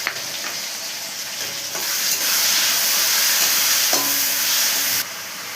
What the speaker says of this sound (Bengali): মশলাটি প্রায় ফ্রাই হয়ে আসছে।